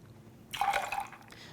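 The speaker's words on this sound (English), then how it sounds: "then you're gonna do 1 ounce of lemon juice" Lemon juice poured into a shaker for an Amethyst Lemon Drop cocktail, a short quiet splash of liquid lasting about a second, close up with no talking.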